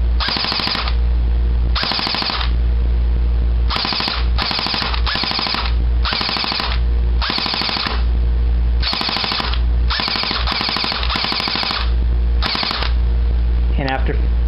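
An airsoft AK47 fires a dozen short full-auto bursts, loud and close, each a rapid mechanical rattle separated by brief pauses over a constant low background hum.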